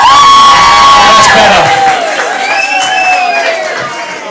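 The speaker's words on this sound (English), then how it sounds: "Come on, give a big round of applause." Wedding guests cheer and whoop loudly, with high whistles and shouts over scattered clapping, the crowd noise staying strong throughout and easing slightly toward the end.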